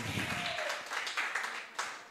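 Congregation applause at a year-end Sunday church service, soft and fairly distant, a steady wash of many hands clapping for about two seconds with no clear voices over it.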